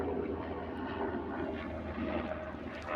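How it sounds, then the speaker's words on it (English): A Coast Guard helicopter flies past overhead, a steady, fairly faint engine and rotor drone that holds evenly throughout without any nearby voices. "That's not a Huey. That's a Coast Guard helicopter."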